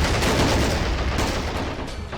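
Machine gun fire in the video game Army Men of War, a dense, unbroken rattle of rapid shots, loud and sustained throughout.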